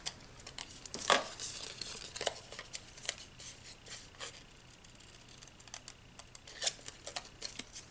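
Paper tabs being snipped off both sides of a handmade paper basket with scissors, a few quiet crisp cuts and crinkles spread over a faint, soft background.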